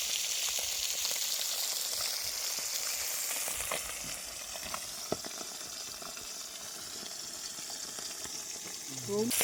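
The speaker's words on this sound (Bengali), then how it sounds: "আর এদিকে মাছ ভাজা চলছে" Steady oily sizzling fills the air as Bhola fish fries in a pan outdoors by a Sundarbans river, with occasional clinks and scraping stirs, close and moderately loud.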